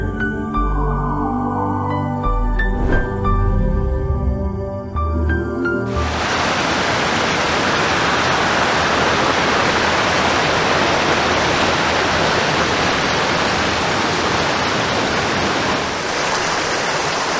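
Roddlesworth Waterfall rushes with a loud, dense, constant hiss and roar that starts abruptly after six seconds, preceded by tonal music.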